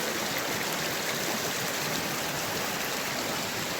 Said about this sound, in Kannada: ಈ ಹೊಳೆ ಹರಿಯೋ ಸೌಂಡ್ಗೆ